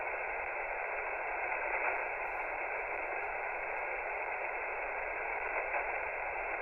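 Radio reception from a Kiwi SDR receiver during remote amateur radio operation, a steady wash of static and band-limited radio hiss holding level throughout with no clear voice breaking through.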